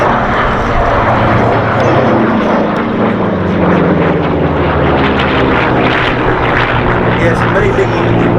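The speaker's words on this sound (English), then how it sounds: "yes, it may be a large aeroplane, but it is by all accounts a delight to fly" A large aeroplane, apparently a B-47, flies past at the Duxford Air Festival, its loud, steady engine roar and low rumble running through the whole stretch, with a crowd or commentary voice underneath.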